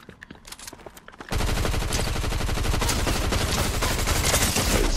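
Gunfire in the video game Fortnite, a sparse few shots at first, then a loud, relentless automatic burst of rapid, evenly spaced shots that continues without pause.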